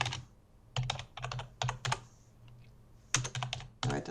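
Quick bursts of keystrokes on a computer keyboard, clustered clicks with short pauses between runs, close and clear in an otherwise quiet room.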